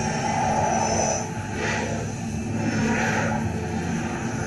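Jet aircraft engine sound effect in a children's read-aloud spy story, a continuous loud roar with swelling whooshes as it passes, heard alone without narration.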